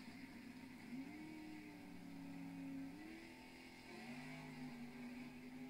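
Engine of a Camaro drag car roaring as it launches down a dragway, a loud sustained drone with rising pitch shifts through gear changes, steady and close with no talk.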